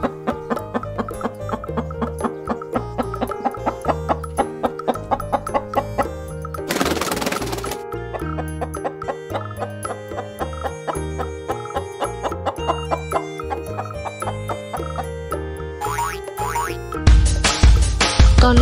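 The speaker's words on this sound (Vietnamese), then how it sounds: "Con gà." A chicken clucks in a children's animal-naming song, its calls set over a bouncy, steady musical backing with a springy boing effect.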